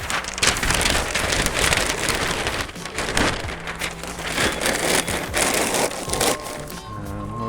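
Packing paper is crumpled and stuffed into a shipping box around beer bottles at a homebrew supply warehouse, giving a loud, continuous crackling and rustling with bursts of crunching, close up and without speech.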